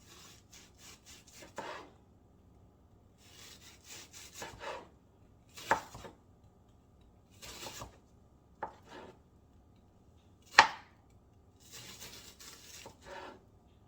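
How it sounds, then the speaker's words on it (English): A knife chops through one small onion on a cutting board in irregular bursts of slicing strokes, with a few sharper knocks against the board. "I'm chopping up one small onion, and I'm just going to slice them"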